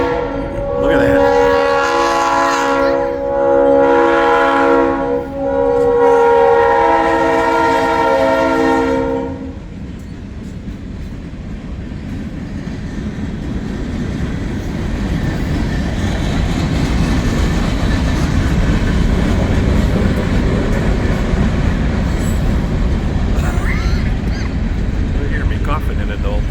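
A train horn blares several long, loud blasts, then the train rumbles past steadily with a continuous roar of wheels on rails.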